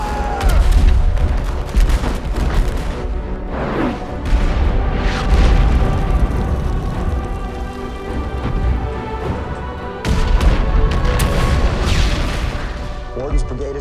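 Battle sounds from a Civil War film: heavy booming artillery and gunfire, loud and continuous with dense overlapping blasts and rumble.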